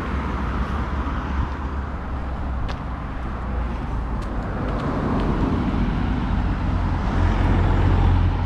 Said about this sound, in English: we get a feel for the amount of traffic actually using this section of route